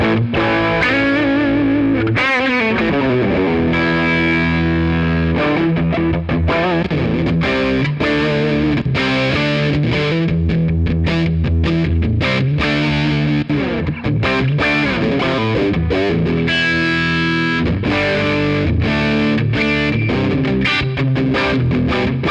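An electric guitar played through a Tube Screamer overdrive pedal gives a loud, continuous stream of crunchy, saturated chords and riffs, with no talking over it.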